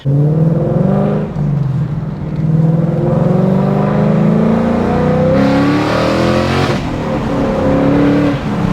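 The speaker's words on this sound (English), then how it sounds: "we're gonna see what Tyler's Mach feels like, because I haven't ripped on it ever since he put the long tubes on" A Ford Mustang Mach V8 with long tube headers revs loudly and continuously, its deep throaty rumble rising and falling through several throttle blips, close up with no talking.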